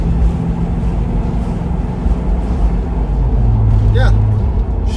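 A 1992 Range Rover Classic pulls out and accelerates, its engine a loud, steady low rumble heard from inside the cabin, with a pitch change like a gear shift near the end.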